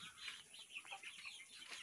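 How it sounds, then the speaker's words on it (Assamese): Local chickens inside a poultry farm shed in Goalpara give soft, scattered clucks, quiet and fairly close, with no talk. "আপোনালোকে চাই থাকক কুকুৰাবিলাক কেনেকৈ থাকে"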